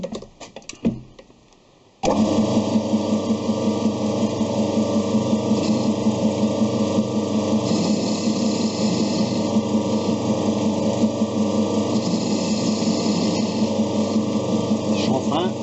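Metal lathe cutting an internal thread in a blind hole: after a short quiet start, the machine kicks in with a steady mechanical hum and a rapid rhythmic chatter that continues unbroken, close and moderately loud.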